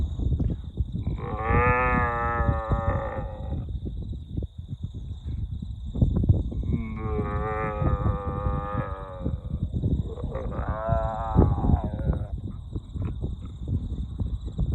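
A cow moos in three long, loud, drawn-out calls close by, separated by short pauses, with a steady high whine running underneath.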